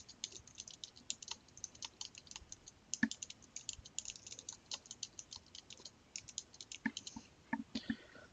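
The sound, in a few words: typing a file name on a computer keyboard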